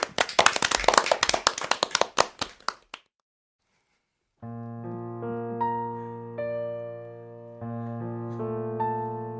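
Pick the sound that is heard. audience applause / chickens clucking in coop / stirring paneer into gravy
audience applause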